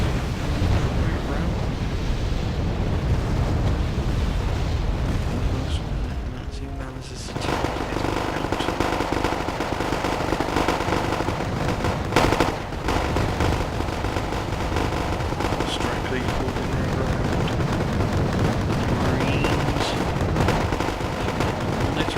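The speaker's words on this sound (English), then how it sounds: "Artillery being fired on the UAZ." Artillery and mortar barrages pound away in the real-time strategy game Wargame AirLand Battle, a dense, continuous wall of booms and battle din with voices talking over it throughout.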